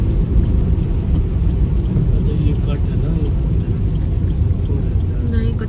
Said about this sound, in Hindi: अभी तक बारिश नहीं रुकी है